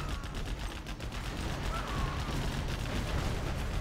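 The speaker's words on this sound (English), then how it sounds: "ViViD attacking from two sides now. This is mainly RPGs, which probably will clear that" In a Command & Conquer Generals battle, RPG rocket fire and explosions rattle in a dense, unbroken barrage of shots and blasts, loud and continuous throughout.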